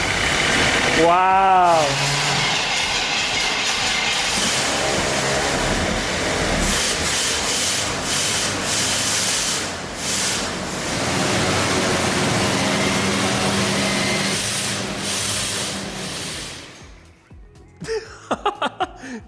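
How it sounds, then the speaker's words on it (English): The engine of a 30-year-old car cranks, catches and keeps running with a steady, rough rumble; a voice briefly exclaims over it, and a few clatters sound near the end. "All right, 10 out of 10, it started."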